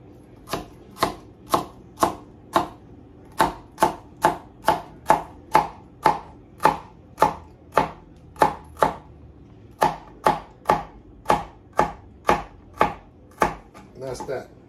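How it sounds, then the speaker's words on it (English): Knife chopping celery on a cutting board, about two dozen sharp, evenly spaced chops in a steady rhythm, close and clear, with no talking, during gumbo preparation. "Now I'm gonna chop up some celery, sit that aside."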